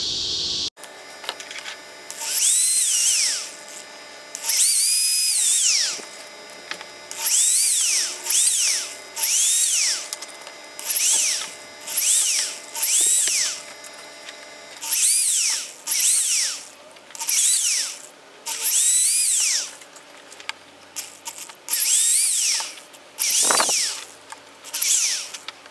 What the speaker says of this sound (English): I'm gonna be showing y'all how to drill those.